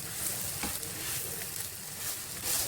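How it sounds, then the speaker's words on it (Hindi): Achari paratha sizzling in a pan over a low flame, a steady close hiss of frying with a few faint scraping touches and no talk. "अब इसको लो फ्लेम पे मैं 3 से 4 मिनट तक कुक करूँगी"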